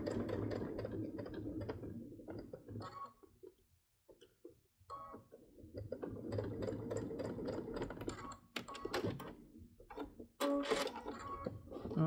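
A home sewing machine running a basting stitch, bursts of rapid mechanical clatter broken by short pauses and one near-silent gap, close and fairly quiet.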